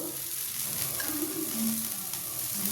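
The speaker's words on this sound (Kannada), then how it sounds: "ಈಗ ನಾನು ಇನ್ನೊಂದು ದೋಸೆ ಹಾಕಿ ತೋರಿಸ್ತಾ ಇದ್ದೀನಿ" Mung bean dosa batter sizzles on a hot pan with a steady, close crackling hiss that runs without a break and has no talking over it.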